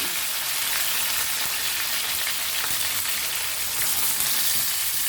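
Fish frying in a pan of oil, a steady dense sizzle that holds even and close throughout, with no voices.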